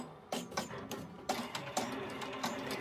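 A Melco EMT16X embroidery machine runs at 900 stitches per minute. Its quiet needle strokes come through as a regular series of sharp ticking bursts over a low mechanical whir.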